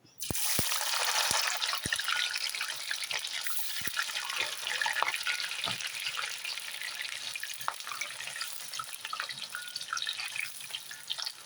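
Raw plantain slices fry in hot oil, sizzling steadily up close, broken by scattered sharp pops and crackles, with no one talking.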